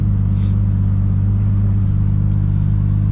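A 1000+HP Toyota Supra MK4 cruising, a loud steady low engine drone with strong rumbling bass inside the cabin, constant throughout with no talking.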